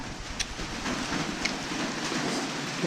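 Steady rain falls in a rural Thai home setting, a soft, even hiss of drops continuing throughout with a few faint taps, fairly quiet and without speech.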